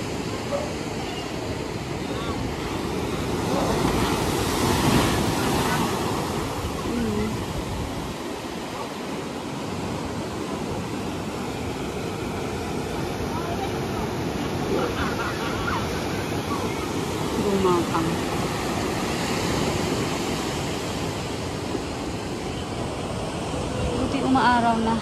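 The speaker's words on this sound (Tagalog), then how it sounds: "Matakot yung mga waves." Ocean waves break on the beach at Baler, Aurora, making a steady, broad rushing roar that swells and eases across the whole stretch, with voices faintly underneath.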